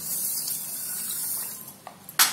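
A glass of water is poured onto a bowl of sugar to make syrup, a soft continuous splashing that trails off, followed by a couple of small clinks and a sharp final splash.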